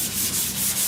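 Sandpaper on a block rasps steadily over primer-surfacer on the rusty roof of a 1969 Chevrolet C10 pickup, a close, continuous scrubbing stroke with no pauses and no voices.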